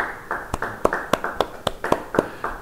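A church congregation claps their hands in a steady, fast rhythm. The claps are sharp and evenly spaced, with no other sound standing out.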